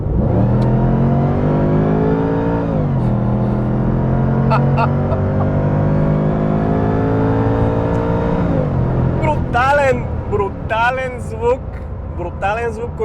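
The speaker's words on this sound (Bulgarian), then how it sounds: "Наистина един от най-яко звучащите двигатели, които съм чувал, и самото ускорение е брутално." A Mercedes-Benz SLR McLaren engine roars loud and close as it accelerates hard on a highway from about 70 km/h, climbing in pitch through two long pulls with a gear change between them, then easing into road noise with some chirping sounds.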